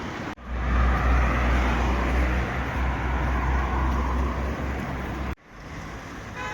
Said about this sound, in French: Il y a beaucoup quand même de voitures qui traversent le village.